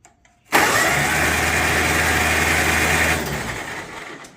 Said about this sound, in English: we need to hit the starter and blow all of this fluid out of the cylinders real quick